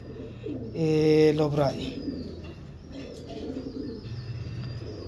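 Cooing from a Sialkoti pigeon, a soft low murmur near the start and again toward the end, close by, while someone speaks loudly in the middle.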